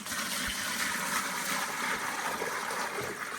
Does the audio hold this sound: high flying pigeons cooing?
no